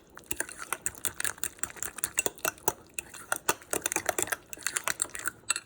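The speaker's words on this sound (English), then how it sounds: "But stir this up." A spoon stirs lasagna sauce in a pot, making quick, irregular scraping clicks and taps against the metal. The sound is close and fairly busy, with no talking.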